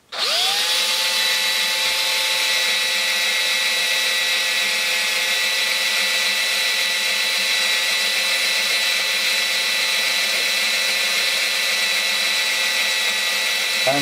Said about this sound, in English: And we're not drilling too fast